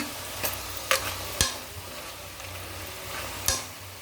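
Masala frying in a pan for masala rice, a steady soft sizzle with several sharp scrapes and clinks of a spoon stirring against the pan.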